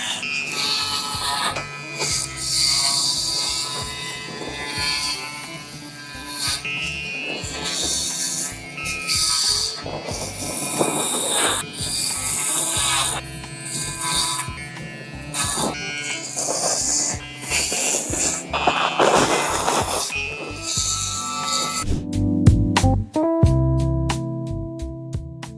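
Electric hair clippers fitted with a 12 guard buzz steadily through hair during a fade haircut, the motor's whine rising and dipping in close, continuous passes before ending with a few sharp clicks.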